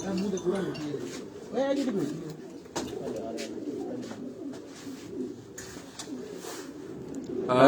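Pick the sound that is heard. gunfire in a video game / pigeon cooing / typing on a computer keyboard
pigeon cooing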